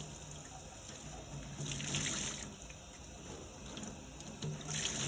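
Running sink water from a tap splashes over a plexiglass sheet being rinsed, a steady close hiss that swells louder as the sheet moves under the stream, with no one talking.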